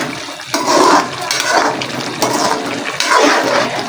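Cooked white chicken karahi mixed and stirred in a pan, with wet sloshing, scraping strokes coming in a few surges, fairly loud and close with no voice.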